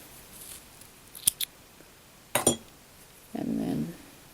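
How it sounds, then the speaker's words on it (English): Scissors snip through crochet yarn in a few short, crisp cuts, close and fairly quiet, with a soft rustle of the yarn being handled afterward. "So we can cut our yarn"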